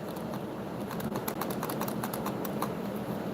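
Someone types on a computer keyboard at a desk, a quick irregular run of light clicks over a constant background hum, nearby and fairly quiet, without talk.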